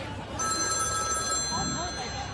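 A telephone bell rings in a cumbia song, with a steady high electronic ring running through most of the clip over a busy musical backing.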